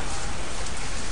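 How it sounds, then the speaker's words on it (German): Steady rain in the Zafehouse: Diaries video game, a dense, even hiss of falling water that continues loud and unbroken with no pauses. "es regnet zwar immer noch"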